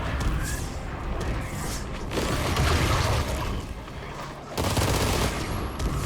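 The Armatus weapon fires in the game Warframe as a dense, continuous stream of mechanical shots and clattering, holding steady with a short dip before resuming.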